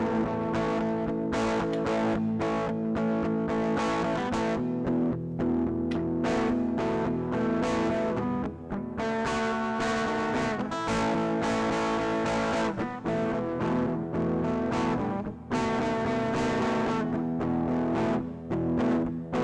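Guitar-driven multitrack music played back through the reverb effect send of a Fostex MR-8 MK II digital recorder, steady and loud with washed-out, echoing sustain and no talking over it.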